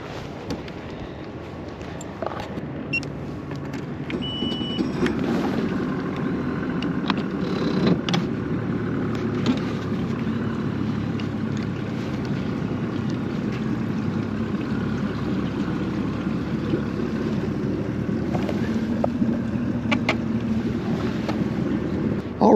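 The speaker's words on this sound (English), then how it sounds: "just started the motor up, backed up" A Ranger RT188 fishing boat's outboard motor, fitted with a new power head, drones steadily at idle, with gusty wind buffeting the microphone.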